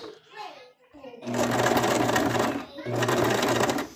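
A sewing machine stitches a pumpkin-themed plush mouse in two close, steady whirring runs with a short pause between, after a brief spoken moment at the start.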